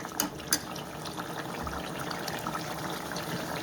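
Puliyogare gojju, a tamarind paste sweetened with jaggery, simmering in a pan with a steady bubbling hiss throughout, two small sharp pops near the start, and no talking.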